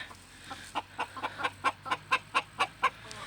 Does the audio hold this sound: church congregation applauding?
no